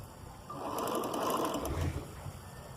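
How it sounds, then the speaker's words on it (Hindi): A domestic sewing machine runs a straight stitch along shirt fabric, a short close mechanical whirring burst of about one and a half seconds rising and falling, with no talking. "मैं इस पर सीधी सिलाई लगा रही हूँ।"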